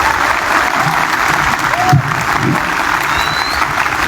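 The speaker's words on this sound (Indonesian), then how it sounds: "kita beri tepuk tangan untuk gadik-gadik kita" Steady, loud applause from a large crowd of personnel at a closing ceremony for young non-commissioned police officers, honoring their instructors. Dense clapping continues throughout, with faint voices underneath.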